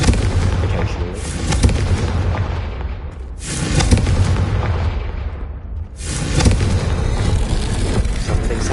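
A Confringo spell explosion in the Hogwarts video game: a series of loud, heavy booms with long rumbling tails, three big blasts swelling and fading one after another, with no voices.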